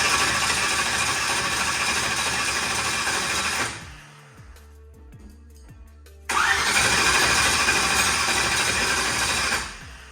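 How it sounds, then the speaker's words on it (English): A car engine being cranked over without fuel, a loud steady rhythmic churning that stops for a couple of seconds with faint clicks, then resumes just as loud for several more seconds before cutting out. "I'm gonna turn it over another 4 or 5 seconds"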